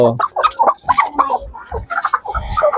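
Dekalb Brown laying hens cluck and chatter close by in a repeated, busy string of short calls, with a person's voice mixed in among them.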